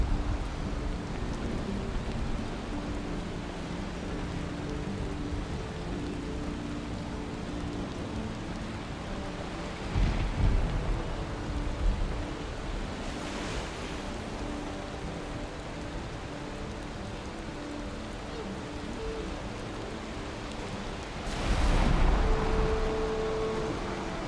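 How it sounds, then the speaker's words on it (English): Ocean waves in the Valheim video game surge and crash in a steady roar, with a couple of louder swells breaking through the constant wash, no voices heard. "Yeah, okay, these waves are going crazy."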